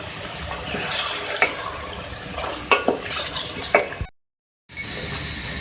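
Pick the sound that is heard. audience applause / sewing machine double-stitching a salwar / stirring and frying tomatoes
stirring and frying tomatoes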